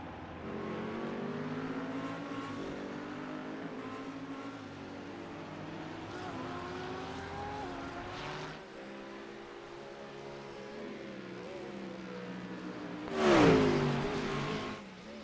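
GT3 race cars in the pits at Imola in the iRacing simulator make a steady, layered engine drone that rises and falls as cars shuffle through, ending with a louder, brighter surge from a passing car.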